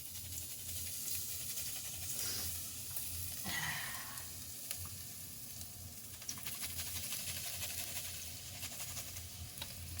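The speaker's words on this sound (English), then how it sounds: "put some olive oil in a pan over medium heat, and we're going to grate or chop some garlic into that" Garlic sizzles in olive oil in a pan over medium heat, a faint, steady hiss and crackle that stays level throughout, with a brief louder rustle partway through.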